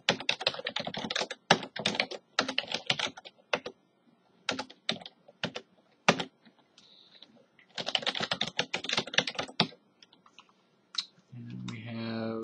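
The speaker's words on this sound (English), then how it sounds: "I can type." Bursts of rapid typing on a computer keyboard, close and clicky, come in several runs separated by pauses, with a brief tone near the end.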